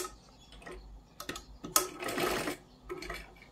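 A sewing machine stitches piping onto a blouse in short bursts of rapid mechanical whirring, with one longer run in the middle and quiet pauses between.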